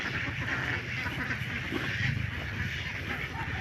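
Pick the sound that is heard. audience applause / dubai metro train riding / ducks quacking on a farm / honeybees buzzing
ducks quacking on a farm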